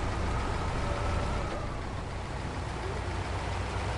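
Truck engine in the SnowRunner video game, a steady low drone held at one constant pitch with no talk over it.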